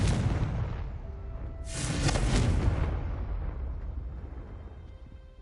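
A Confringo explosion spell bursts in Hogwarts Legacy, a loud booming blast swelling about midway over a rumbling game background, then a long fading tail.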